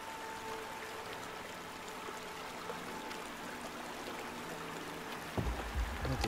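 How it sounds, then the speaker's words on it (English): Steady, gentle rush of a calm river flowing in the Outlast II video game, continuous and soft throughout, with a brief low thump near the end. "But the sound of the calm river is actually somewhat soothing."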